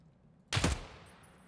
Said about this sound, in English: They just really lobbed a grenade at us